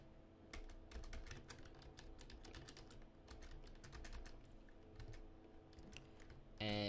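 Rapid typing on a computer keyboard, a dense run of close, crisp key clicks continuing steadily without speech.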